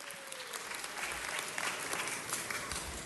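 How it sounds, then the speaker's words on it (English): Faint round of applause from the audience at a city council meeting for visiting family members, steady clapping heard from a distance with light crowd murmur. "Let's give them a round of applause."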